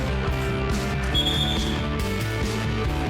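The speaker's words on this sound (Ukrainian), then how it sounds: "Свисток арбітр пролунав" A referee's whistle in an amateur winter cup football match in Kyiv gives one short, fairly faint blast over a steady, droning background.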